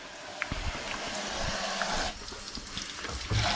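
Hot water runs steadily from a kitchen tap as items are rinsed beneath it, a continuous hiss with small clinks and splashes of things being handled under the stream.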